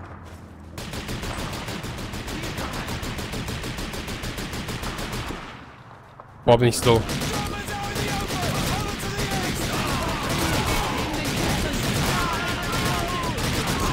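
Sustained rapid gunfire in the World War II shooter Call of Duty 2, loud repeated shots in long bursts with a short lull and a sharp blast, while someone speaks briefly.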